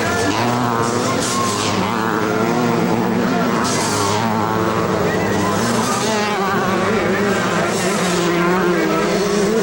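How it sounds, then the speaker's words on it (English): Motocross motorcycles, 500cc and 125cc machines, race at the 1988 Motocross des Nations in France, their engines loud and continuous as they power out of turns, with revving surges and a commentator talking over the roar. "the power of the 500cc motorcycle coming out of the turns is much greater than the 125"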